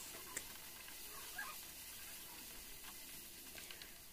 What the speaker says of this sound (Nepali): अब अन्डा लगाउनु पर्छ तेलमा चाहिँ फ्राई गर्नको लागि।